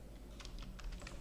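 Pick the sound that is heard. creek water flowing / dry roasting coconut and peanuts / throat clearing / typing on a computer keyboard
typing on a computer keyboard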